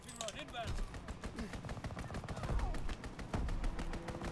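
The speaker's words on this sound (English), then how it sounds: "So we didn't die from the strafing run" Aircraft strafing run in the video game Call of Duty WW2, with rapid bursts of gunfire crackling at moderate distance amid battle noise, and a voice talking over it.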